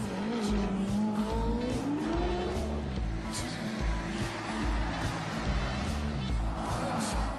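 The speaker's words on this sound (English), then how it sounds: "very rich young men race very expensive fast cars in a battle to win over the admiring hangers-on" Expensive, very loud sports cars race past with roaring engines, revving and tire squeal, and the pass-bys come in quick succession. Crowd noise and a voice sit underneath.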